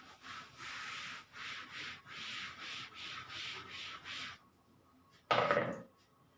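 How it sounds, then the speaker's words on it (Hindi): Writing is rubbed off a classroom board in a run of about eight rhythmic scrubbing strokes, followed by a pause and one sharp, louder swipe at the end. "इसको मैं रब कर देता हूँ"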